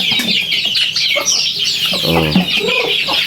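Native chickens cluck and chatter nearby in a busy farmyard, overlapping calls with a louder, clearer cluck in the middle, set against steady outdoor background noise.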